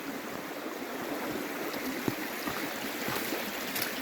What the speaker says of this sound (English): it's got a whole creek over here at the neighbor's place